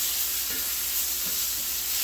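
Garlic butter chicken sizzles steadily in a pan, a constant bright frying hiss with faint stirring scrapes underneath, close and even throughout with no voices.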